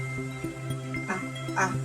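Short dog barks and yips recur in a quick, uneven series, fairly close, over a steady low hum, with no talking.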